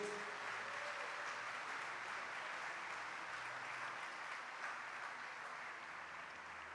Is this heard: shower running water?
no